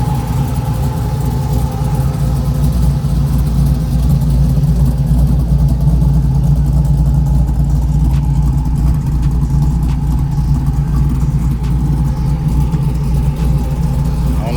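A Chevrolet Trailblazer engine runs steadily nearby, a loud, low rumbling idle with constant throbbing tones and no clear revving, continuing unbroken throughout.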